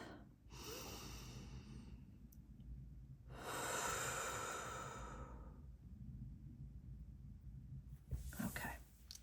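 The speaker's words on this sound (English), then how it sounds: "Taking a deep breath." Slow, deep breaths drawn in and let out alone in a quiet room during a calming pause before a tarot reading, each inhale and long exhale clearly audible and close.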